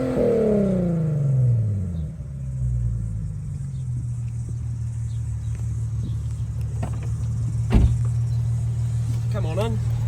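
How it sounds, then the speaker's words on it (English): A Nissan Fairlady 370Z on the move gives a deep exhaust rumble, heard from inside the cabin. The engine note falls as the revs drop, then settles into a steady low drone, with a person talking over it. "just so you can get a chance to hear the exhaust note"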